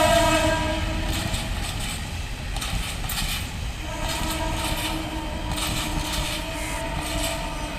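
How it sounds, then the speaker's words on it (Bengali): A train runs along the seaside railway line at Dehiwala-Mount Lavinia, Colombo, its loud rumble and clattering wheels rolling steadily close by, with horn tones ringing above the noise. "ট্রেন যাচ্ছে।"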